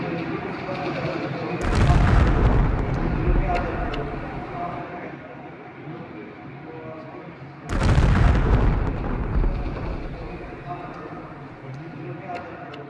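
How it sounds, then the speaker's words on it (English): A car bomb explodes outside a paramilitary office in Quetta, recorded on street CCTV: two loud, broad booming blasts with long rumbling decay, the second following several seconds after the first, with no talk over them. "Around noon, a car bomb exploded in Quetta, that too outside a paramilitary office."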